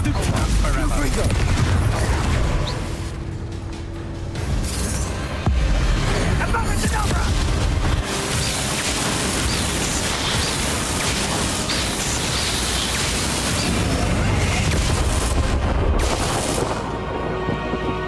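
Confringo blasting-spell explosions in the Hogwarts Legacy video game: loud, dense booms and crackling blasts rolling almost continuously under a thick game soundtrack, with brief dips between bursts.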